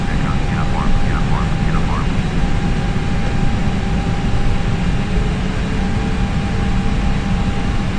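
An Airbus jet in the Aerosoft Airbus X flight simulator taxis toward takeoff, with a loud, steady engine roar and whine throughout and a voice talking over it.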